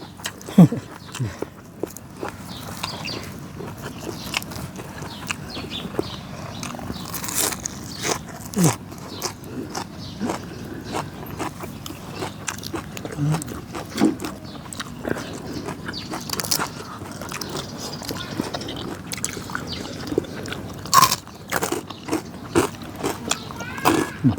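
Crunchy chewing of spicy pounded giant octopus salad in Isan style, with irregular close-up bites and mouth noises scattered over a quiet background and brief speech.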